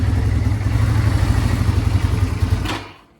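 A neglected Yamaha Bear Tracker 250 ATV engine idles close by with a steady, low, even chug, then cuts out abruptly near the end.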